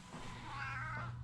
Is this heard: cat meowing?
yes